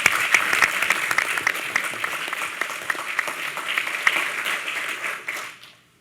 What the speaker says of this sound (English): Another pause for a round of applause